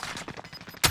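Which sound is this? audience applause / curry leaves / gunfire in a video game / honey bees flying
gunfire in a video game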